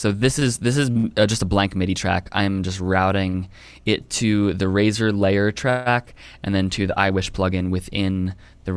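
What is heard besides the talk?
No everyday noises stand out.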